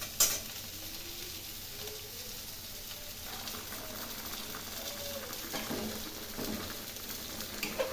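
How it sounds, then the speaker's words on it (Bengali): Fish curry gravy heats toward a boil in a pan, giving a low steady sizzle and faint bubbling, with a few light utensil knocks and scrapes against the pan. "এখন ঝোলটা ফুটিয়ে নেব।"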